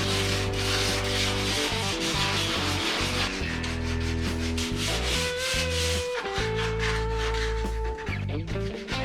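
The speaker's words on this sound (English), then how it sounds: "Still sanding." Sandpaper rubbing back a skim of body filler on a car firewall, a steady run of close scratchy strokes over a continuous tonal backing with no talking.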